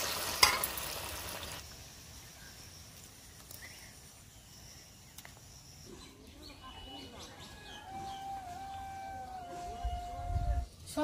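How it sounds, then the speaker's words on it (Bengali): Malpua pancakes fry in hot oil in a pan, a soft continuous sizzle with occasional stirring clinks and a burst of bubbling near the end. "দেখুন সব মালপোয়াগুলো আমি একই রকম ভাবে ভেজে নেব।"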